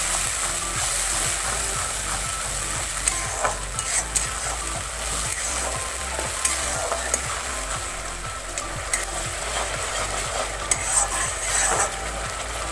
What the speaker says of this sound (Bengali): এবার আমার মশলাগুলো ভালো করে কষে নিতে হবে